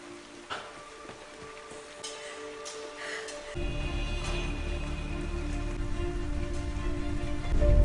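Heavy rain pours down steadily, a dense hiss of drops on surfaces that gets noticeably louder and fuller halfway through.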